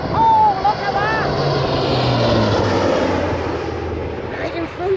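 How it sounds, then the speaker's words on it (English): A propeller airplane flies past at an air show in Wales, a loud, broad engine roar that stays strong and steady throughout, with excited spectators close by. "That is the first plane of the day."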